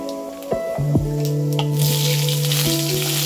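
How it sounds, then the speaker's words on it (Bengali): Vegetables, including raw banana and potato, go one by one into hot oil tempered with radhuni and panch phoron. A few soft plops and thuds give way to a steady, loud hiss of frying. "এবার এই তেলের মধ্যে একে একে সবজিগুলো ছেড়ে দিচ্ছি।"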